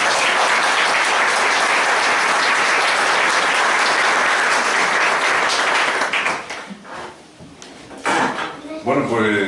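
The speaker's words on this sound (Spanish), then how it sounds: "un aplauso para él" A live audience at a book presentation applauds loudly in a dense, sustained wash of clapping for about six seconds, then the clapping thins out and a voice starts speaking.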